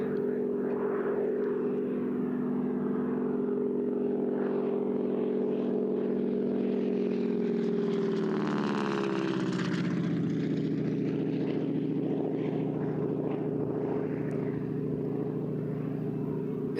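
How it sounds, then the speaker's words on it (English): A propeller-driven AT-6 trainer passes overhead at an air show, a steady loud engine drone that swells and shifts pitch as it flies by, filling the scene continuously without talk. "as we watch this series of flybys now, starting with the AT-6"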